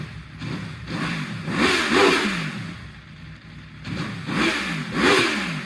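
A 2026 Aprilia Tuono V4 with its stock exhaust is blipped repeatedly, each rev swelling and falling back in a rhythmic series of close, moderately loud bursts.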